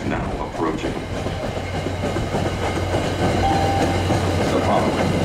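An Amtrak train passes an MBTA Orange Line station, a loud, continuous rumble of rolling wheels with steady rail clatter that holds strong from start to finish.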